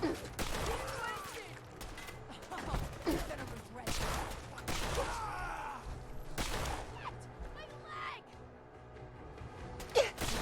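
Fallout 4 gunfire: several loud, ragged bursts of shots in quick succession, broken by short pauses, with a voice speaking between the volleys.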